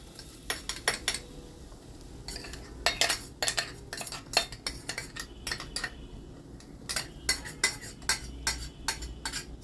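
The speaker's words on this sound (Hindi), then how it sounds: "हम इसको चलाएंगे धीमी आंच पे।" Ground walnuts for walnut halwa being stirred in a pan over low heat, a spoon scraping and clinking against the metal in repeated bursts, close and clear, with no talk.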